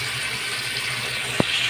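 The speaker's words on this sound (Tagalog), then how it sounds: "Okay na, lakas na ng tubig niya." Steady rushing of water flowing strongly from a toilet supply line, continuous hiss with a brief knock near the end.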